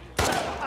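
A single sharp gunshot in The Last of Us Part II, a sudden close crack that rings out briefly and then tails off, with a voice faintly present in the mix.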